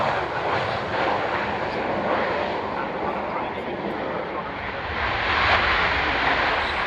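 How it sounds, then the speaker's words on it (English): Avro Vulcan bomber landing, heard as a steady, loud, broad jet-engine roar that swells slightly near the end, with no talk over it. "You can always tell when it was the Vulcan. Landing."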